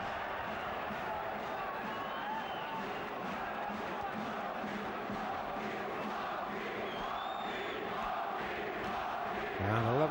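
A large boxing crowd of around 11,000 roars steadily behind Rocchigiani during the Eubank vs. Rocchigiani WBO super middleweight bout, a sustained, dense wall of shouting and chanting that sits at a fairly distant, even level throughout.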